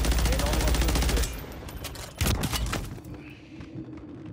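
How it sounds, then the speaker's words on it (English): Warzone 3 gunfire: dense rapid automatic bursts at the start give way to scattered single shots and booms, some close and some distant, with players talking over the fight. "I think I'm getting sniped at from main top building."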